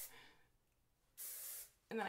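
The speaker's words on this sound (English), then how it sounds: "Let's spray it." Hair product sprays from an aerosol can in short hissing bursts, two close, loud sprays separated by a brief pause, with a voice just before.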